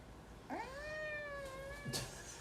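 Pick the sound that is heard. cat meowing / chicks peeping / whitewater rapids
cat meowing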